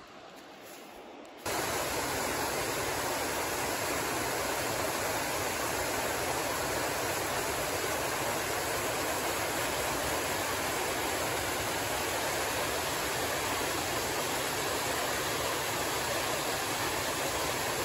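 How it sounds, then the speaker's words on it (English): Comer Creek Falls in the Grayson Highlands along the Appalachian Trail, a steady, dense roar of falling water that starts after a brief quiet moment and then holds loud and unbroken, with no talk. "That's Comer Creek Falls right there."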